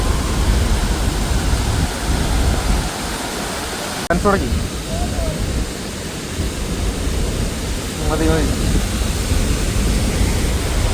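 Constant loud roar of Athirappilly Falls in Kerala filling the scene, with a few brief voices speaking over it.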